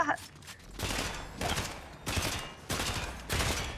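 Video game gunfire rattles in rapid bursts, four or five loud volleys of fusillade separated by short pauses, close and dominant across the whole stretch.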